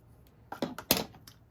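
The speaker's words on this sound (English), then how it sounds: "trim ribbon, and I am going to cut that just larger than the width of my designer series paper" Scissors cut through scalloped lace trim ribbon in a few quick, close snips that grow louder toward the end, with no talking.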